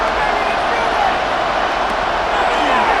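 A stadium crowd roars steadily in the Madden NFL 26 football game, building into a dense, loud wash of noise, with commentary mixed in.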